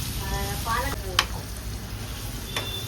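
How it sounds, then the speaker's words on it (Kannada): Mushrooms frying over high flame in a pan, a steady close sizzle with stirring scrapes and a sharp clink of a utensil, under light background noise. "ಒಂದು 5 to 6 ಮಿನಿಟ್ಸ್ ಫ್ರೈ ಮಾಡ್ಕೊಳ್ಳೋಣ ಹೈ ಫ್ಲೇಮಲ್ಲಿ"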